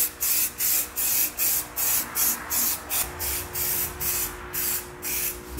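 Gray primer being spray painted onto a car, a rhythmic series of about a dozen short, loud hissing bursts with brief gaps between them, close up and with no talking.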